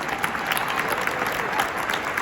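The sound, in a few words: audience applause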